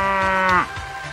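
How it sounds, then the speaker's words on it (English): A single cow's moo, low and harmonic-rich, holds steady and then drops in pitch as it ends, loud and close, followed by quiet background. "we heard the moo from the spaceship"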